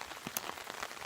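Rain falling on a campsite with a tent pitched under trees, a soft continuous patter with a few brief sharper drops, steady and moderately quiet throughout, no voices.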